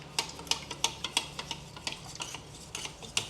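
A spoon stirs custard mixture in a bowl to smooth out lumps, with regular clinking scrapes against the side roughly every third of a second, close and fairly quiet.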